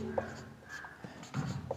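Chalk writing on a classroom board as a geometry construction is drawn: a few short, faint scratchy strokes with brief taps, quiet and close.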